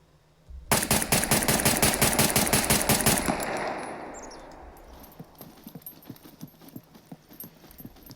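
Pistol fire in the video game Scum while aiming down the sights: a fast, loud string of close shots for a few seconds, then a decaying echo and a scatter of fainter clicks and thumps.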